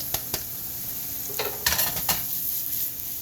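Garlic sizzling in a pan of shrimp scampi, a close, steady fry with stirring scrapes and a few clinks of a utensil against the pan.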